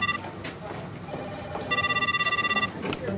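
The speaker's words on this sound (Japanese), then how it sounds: "C 代表、〇〇損害保険から電話です。" A telephone rings in an insurance loss adjuster's office, two electronic ring bursts with a gap between them, fairly close and clear over quiet room noise.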